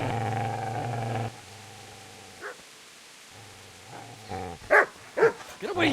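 A dog barks several times in the medieval game Kingdom Come: Deliverance. A low hum cuts off early, then a few sharp, close barks and yips cluster near the end.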